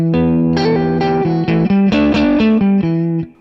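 Electric guitar lick, played as quick hammered and slid double-stop notes through a chorus-tinged, slightly driven tone, loud and close with a ringing finish, no talk.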